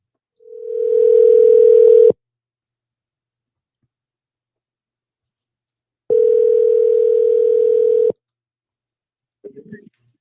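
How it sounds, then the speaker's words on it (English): A telephone dial tone sounds in two steady, loud two-second bursts separated by silence, followed by a short click as a call is placed. "let's get him on the phone."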